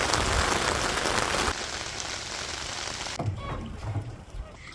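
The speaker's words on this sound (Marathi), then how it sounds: "पावसाने सगळी वाट लावली." Rain falls steadily outdoors at a farm, a dense hiss that cuts abruptly partway through, with a person talking over the later part.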